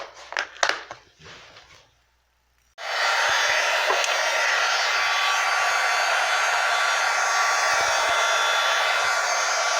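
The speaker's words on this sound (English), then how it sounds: "So now I'm going to heat up my heat gun." A heat gun switches on after a few clattering handling knocks and a pause, then blows a loud, steady rushing hiss that holds unbroken to the end.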